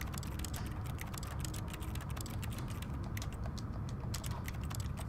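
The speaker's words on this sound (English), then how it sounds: "when I press X, it makes keyboard noises" Keyboard typing noises in The Stanley Parable, a quick steady patter of sharp clicks and clacks over a low mechanical hum, quiet and with no one talking.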